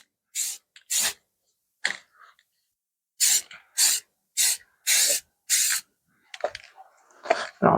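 Spray paint goes on a brake caliper as a second coat: a string of short, sharp hissing bursts close by, some spaced and several in quick succession, with quiet gaps between.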